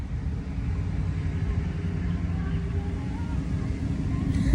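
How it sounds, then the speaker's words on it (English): A steady, heavy low rumble of a car engine running nearby, constant throughout with a slight swell at the end. "Someone has a car that makes a lot of noise."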